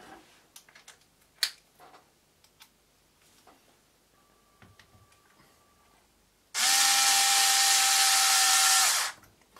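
An electric power tool drives a screw during work on a Traxxas Slash RC car, whirring loud and steady for about three seconds near the end after scattered small clicks and handling noises.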